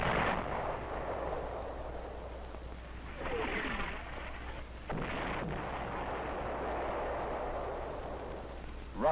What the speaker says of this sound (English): Rockets were used effectively by the 4th Division to thicken the artillery fires.